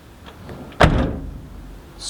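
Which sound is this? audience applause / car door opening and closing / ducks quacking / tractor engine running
car door opening and closing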